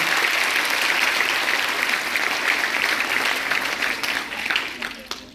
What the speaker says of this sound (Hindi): अपने लिए एक बार जोरदार तालियां बजाएं।